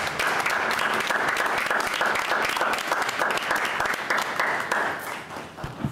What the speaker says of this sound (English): give you all a standing ovation and a round of applause